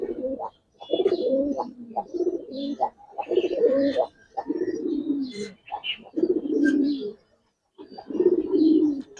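Giribaz coloring and silver pigeons in a loft coo at close range, their low throaty phrases rising and falling in repeated bursts separated by short pauses.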